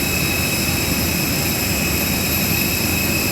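Steady broadband roar of Citylink Airbus A320 jet engines at an airport, constant and loud with a high whine on top, no voices.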